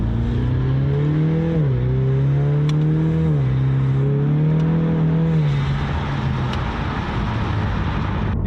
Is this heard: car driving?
yes